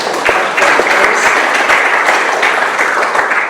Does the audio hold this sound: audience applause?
yes